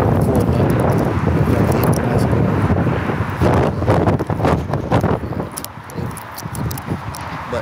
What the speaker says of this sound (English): Windy like a motherfucker out here.